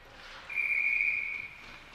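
A referee's whistle at an ice hockey game gives one sharp, steady blast of about a second, clear over faint arena ambience.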